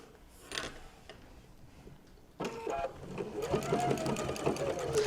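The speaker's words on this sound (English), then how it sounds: "I'm going to sew down this edge to hold my pocket into place" A sewing machine runs steadily while stitching along the edge of a pocket on a fabric notebook holder, starting after a brief quiet stretch with soft handling noises and then humming on near and clear to the end.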